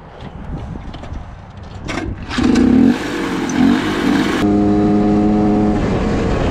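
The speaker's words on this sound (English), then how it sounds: "Feels a little better on the motor, it's revving up." A vintage Honda Odyssey dirt track race car engine sputters, then catches and revs up loud and close, settling into a steady, buzzing drone.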